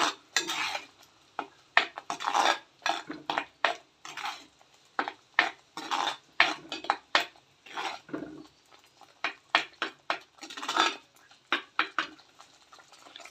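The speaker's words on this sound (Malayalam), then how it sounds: "നന്നായിട്ടൊന്ന് മിക്സ് ചെയ്ത് കൊടുക്കണം" A spoon scrapes and clinks around a metal pot in short, irregular strokes, stirring thick shark fish curry, with brief quiet gaps between bursts.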